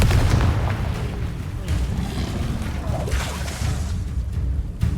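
Confringo fire spell blasts in Hogwarts Legacy, heavy booming explosion rumble with low crackling bursts continuing throughout amid game noise.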